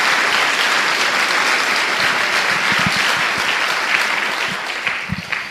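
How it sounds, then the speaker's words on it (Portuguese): A church congregation applauds in a sustained, dense wash of clapping that runs unbroken throughout and eases slightly toward the end. "Dá uma salva de palmas ao Senhor"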